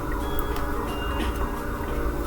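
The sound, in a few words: emergency vehicle sirens outside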